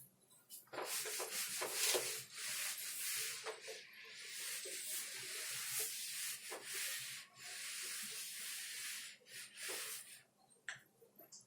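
Eraser rubbing across a classroom board during a physics lesson, a steady close scratchy swishing with quick back-and-forth strokes that lasts about ten seconds and has no talk over it.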